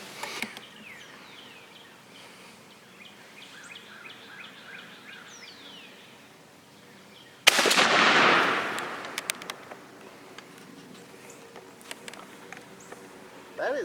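A single loud shotgun blast from 3.5-inch shells fired at a target rings out once and decays, with outdoor bird calls before it and after.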